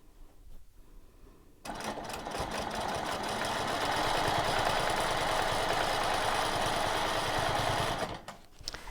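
A sewing machine runs steadily while stitching a charity quilt, entering after a quiet start and whirring at an even, loud, continuous pace for about six seconds before stopping. Nobody talks.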